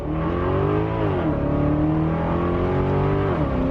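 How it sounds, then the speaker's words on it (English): A Maserati GT engine revs loud and close, a steady full-bodied roar with rising and falling pitch as the throttle swells and eases, with no talking over it. "You get it why people love this engine so much."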